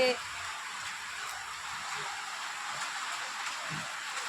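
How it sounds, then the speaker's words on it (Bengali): Heavy rain pours down as a steady, dense hiss that is even in level throughout, heard from indoors with no other sounds over it. "প্রচুর বৃষ্টি হচ্ছে দেখো অঝরে বৃষ্টি বেরোনো যাচ্ছে না অঝরে বৃষ্টি হচ্ছে"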